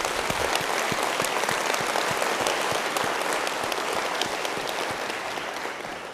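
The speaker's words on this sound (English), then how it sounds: "Let's give Dr. Curry McCoy a round of applause as well." A university fall kick-off audience gives a sustained round of applause, dense and even throughout, tapering slightly toward the end.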